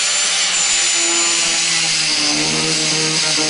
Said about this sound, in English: I'm just going to use my handy dandy grinder to simulate the kayak keel being dragged on the ground